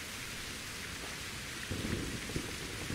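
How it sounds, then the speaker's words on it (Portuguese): Rain falls steadily in the game Better Late Than Dead until a deep thunderclap rolls in partway through and rumbles on beneath the hiss, with nobody speaking. "Ui, está brutal a trovoada, amigos."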